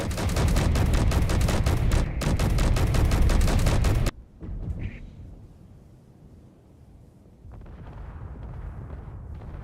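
A custom assault cannon turret in Space Engineers firing a rapid rhythmic stream of heavy booming shots for about four seconds, loud and close, then stopping abruptly into low background rumble and faint mechanical noise.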